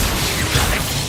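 Expelliarmus disarming spell cast in Hogwarts Legacy, a dense, loud magical burst with a whooshing, crackling blast that fills the whole short moment amid continuous game effects.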